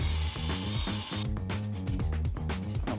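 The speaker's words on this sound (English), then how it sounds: "This is not a proper polisher." A cheap battery-powered headlight restorer polisher runs with a rough, rattling, ratchet-like mechanical churn, loud and close, its motor pulsing unevenly throughout with no talking.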